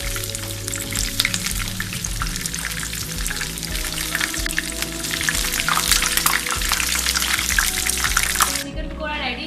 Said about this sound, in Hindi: ऑयल हम इनको डीप फ्राई करेंगे।